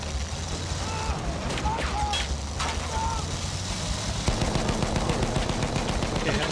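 Rapid bursts of gunfire crackle through a Battlefield 1 Conquest battle in the Sinai Desert, several short volleys over a steady rumble of vehicles and ambient combat noise.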